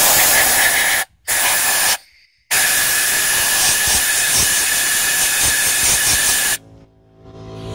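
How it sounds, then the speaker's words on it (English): Compressed air hose blasting dust off dirty scrap parts: loud, steady hissing bursts with two short breaks, then cutting off near the end. "I'm going to take the duster and just blow the air hose and dust them all"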